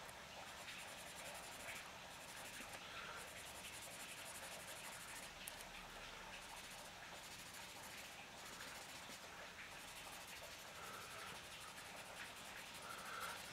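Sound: paper blender rubbing shading on drawing paper

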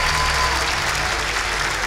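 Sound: audience applause after a first rap battle

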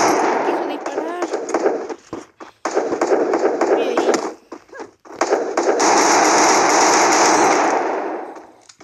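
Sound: gunfire in the video game Free Fire

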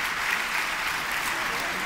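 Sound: applause

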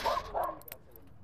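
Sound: small dog barking

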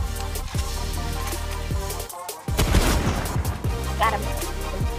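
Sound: gunfire in the video game Fortnite

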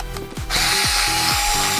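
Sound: unscrewing screws from an RC axle

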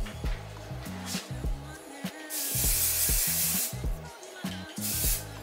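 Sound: hairspray being sprayed

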